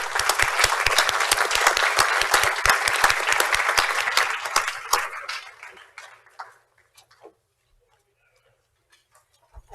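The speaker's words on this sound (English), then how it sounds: "Let's please give our candidates a round of applause." A municipal candidates forum audience claps loudly and densely for about five seconds. The applause thins into a few scattered claps and then fades to near silence.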